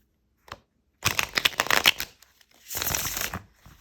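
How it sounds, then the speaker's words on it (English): Tarot cards riffle shuffled up close: a brief flick, then a quick fluttering cascade, a pause, and a second softer riffle and bridge. "you can riffle shuffle like a dream"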